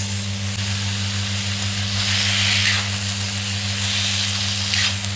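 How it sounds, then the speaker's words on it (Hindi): A kitchen exhaust fan runs with a steady low hum under the loud, continuous sizzle of pumpkin and vegetables frying in oil, with no talking. "वो दूसरी आवाज़ हमारे एग्जॉस्ट की है। किचन में एग्जॉस्ट लगा है"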